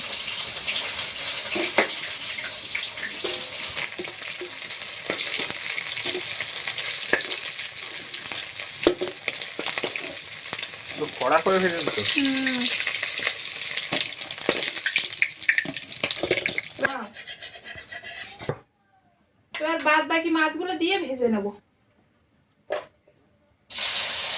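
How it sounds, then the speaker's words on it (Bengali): Bele fish frying in a pan in a village kitchen gives a loud, steady sizzle that runs for most of the clip, then breaks into shorter bursts separated by brief silences. "মাছ ভাজা হয়ে গিয়েছে এবার তুলে নিচ্ছি"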